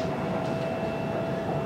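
A passenger train in a social coupé carriage rolls along the rails with a steady low rumble and hiss, alone and without talk.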